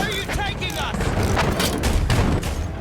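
An anti-aircraft gun fires in the Battlefield 1 video game, with loud rapid booming blasts and crackling gunfire throughout, mixed with other battle noise and a voice talking over it.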